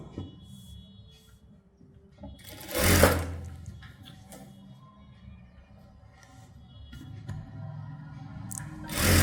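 Sewing machine stitching a blouse, running in a steady low mechanical whir with a few louder bursts and pauses, close up with no talk.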